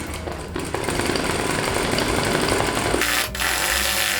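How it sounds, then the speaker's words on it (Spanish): A straight-stitch sewing machine runs fast and loud while embroidering stiff denim, a dense mechanical whir and rattle that briefly stops and restarts, with no talk. "También recordemos que estamos cosiendo mezclilla."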